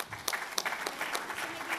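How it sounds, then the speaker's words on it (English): Applause from the audience at a mobile marketing awards night in Toronto, steady clapping from a moderate crowd filling the space throughout, with no voices over it. "Let's give them a big round of applause."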